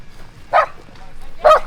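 A small dog barks twice, short close yaps about a second apart, over quiet background on an off-road trail outing.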